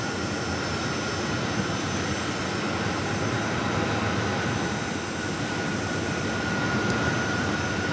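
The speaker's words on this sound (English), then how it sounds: "Next arrival on runway 8, Porter, the E2," A Porter Airlines Embraer E2 airliner arrives on runway 8 at Phoenix Sky Harbor, a steady, moderately loud jet engine roar with a high whine held throughout, heard from a distance.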